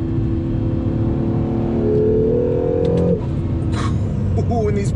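A 2020 Acura NSX hybrid supercar accelerating hard, its engine note climbing steadily in pitch for about three seconds before a quick gear change, loud and close from inside the car with faint wind and road noise.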